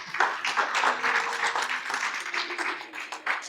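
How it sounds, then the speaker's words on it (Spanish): An audience in a church gives a short burst of applause for Cristian, steady clapping throughout without speech. "Un aplauso a Cristian"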